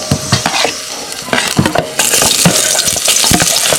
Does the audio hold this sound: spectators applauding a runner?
no